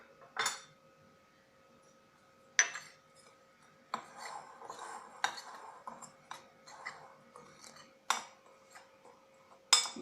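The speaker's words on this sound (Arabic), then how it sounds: "عشان نحضر العجينة رح نخلط المكونات الجافة مع بعض" Dry ingredients for an oat tart dough are stirred together in a bowl, with quiet scraping and a few sharp clinks of a utensil against the bowl, spaced irregularly between near-silent pauses.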